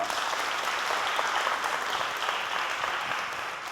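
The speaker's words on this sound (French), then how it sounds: "Applaudissements pour vous." Spectators at a youth holiday competition in Chad applaud a parish team, producing a steady, dense burst of clapping at moderate distance that fades slightly toward the end, with no talk over it.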